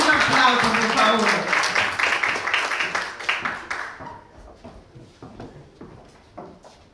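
An audience at a photography and architecture award ceremony claps loudly in a dense burst that thins to scattered claps and fades out within a few seconds.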